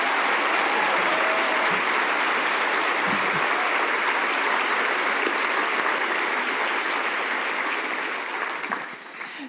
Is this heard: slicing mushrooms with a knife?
no